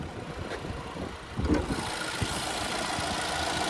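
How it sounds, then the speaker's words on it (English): A 2024 Cadillac XT5's 2.0-liter turbocharged four-cylinder engine idles with a steady, low rumbling hum heard close by, with a brief louder rattle partway through. "there's that 2-liter turbocharged 4-cylinder"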